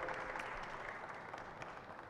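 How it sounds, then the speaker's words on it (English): Applause from a conference audience at an African investment summit, a brief, soft, steady patter of many hands clapping at a distance. "I think a round of applause."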